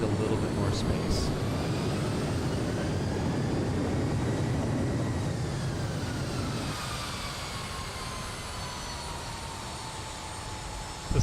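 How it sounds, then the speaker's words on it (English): An airliner in X-Plane 11 runs its thrust reversers to back up at Santa Monica Airport, producing a loud, sustained jet roar with a slowly shifting whine that eases slightly toward the end. "let's get the reversers on here and back this thing up a little bit"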